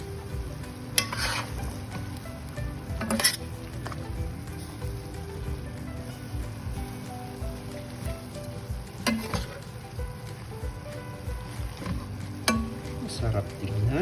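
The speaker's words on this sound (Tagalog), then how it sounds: "Then haluin ulit natin yung kangkong." Adobong kangkong (water spinach) being stirred in a hot pan, with a steady sizzle of frying broken by several sharp scraping strokes of the spatula, close by.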